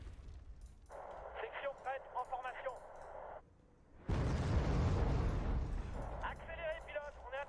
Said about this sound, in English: Oh, there's the artillery.